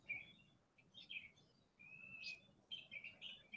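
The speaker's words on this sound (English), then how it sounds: "And as you listen to the birds, they just talk away" Small birds chirp and sing in short, bright bursts and a sustained trill, faint and somewhat distant against a quiet outdoor background.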